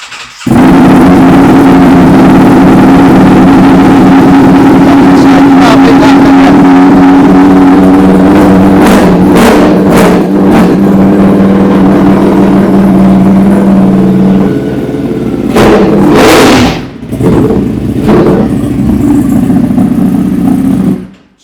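A motorcycle engine starts and settles into a loud, close, steady idle in cold conditions, with a few sharper blips near the end and no talk.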